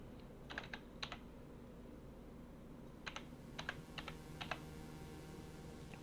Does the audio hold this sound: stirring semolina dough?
no